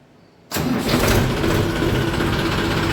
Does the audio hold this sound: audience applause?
no